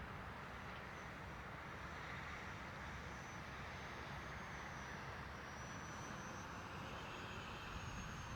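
An FT Adventure RC foam plane flies at full throttle into a strong wind, its electric motor a steady distant drone half buried under continuous wind rumble, with no voices.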